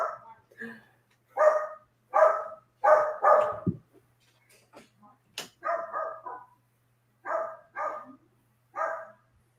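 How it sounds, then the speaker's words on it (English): A dog barks in close, loud bursts, often in pairs, with short pauses between groups and a few faint yips in the gaps. "Why is my dog barking?"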